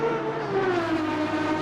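A race car engine in the Assetto Corsa Competizione racing game hums with a fairly quiet, steady drone whose pitch slides gently as it drives on, with no talk.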